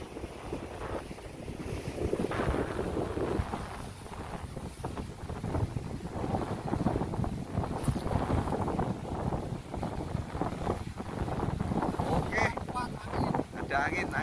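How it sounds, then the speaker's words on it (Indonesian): Strong wind buffets the microphone on a rocky seashore during a rock fishing competition in Pacitan, a loud continuous rumbling gust noise mixed with surf wash, with people talking under it. "angin, anginnya terlalu kencang di sini,"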